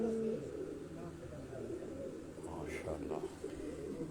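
Pigeons coo softly and faintly from a rooftop loft at dusk, low calls repeating under a steady wash of background noise with voices and a distant call to prayer.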